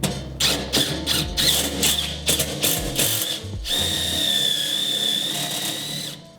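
A drill drives self-tapping screws into sheet metal for a vertical garden planter, giving bursts of whirring and ratcheting grind, several short runs, then a long higher-pitched whine as a screw bites, close and loud.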